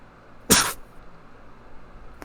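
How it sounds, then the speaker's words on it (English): A single sharp cough bursts out at close range, brief and loud, followed by quiet room tone and a faint click near the end. "Keep ignoring those coughs."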